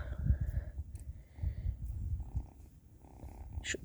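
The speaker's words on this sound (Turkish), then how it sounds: "Şu seslerine bayılıyorum ya hır hır sesine." A cat purrs close up outdoors in a village, with a low, steady rumbling rhythm, soft and continuous, with faint rustling in the background.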